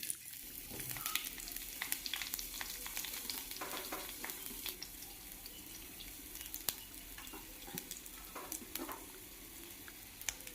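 Onion frying in a pan after fenugreek for a mango fish curry: a steady, faint sizzle with scattered crackles and light stirring scrapes, no voices.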